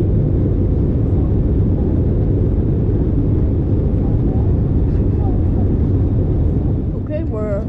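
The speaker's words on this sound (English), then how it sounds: "we're flying with Wiley the Bison today. We'll be landing in Jamaica shortly" Steady, loud broadband roar inside the cabin of a Frontier Airlines Airbus A320-271neo on approach toward Montego Bay, Jamaica, continuous engine and airflow noise throughout with a faint high chime near the end.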